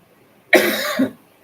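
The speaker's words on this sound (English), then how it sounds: "I'm having a little bad cough here." A single harsh cough bursts out close to the mic, then a second rougher hack follows, with a third starting at the very end.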